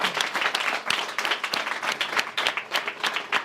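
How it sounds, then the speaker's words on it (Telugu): A church congregation at a Sunday service claps in unison for God's glory, a loud, rhythmic burst of hands that keeps going throughout, with no voices heard over it. "ఒకసారి క్లాప్స్ కొడదాం ఫర్ గాడ్స్ గ్లోరీ"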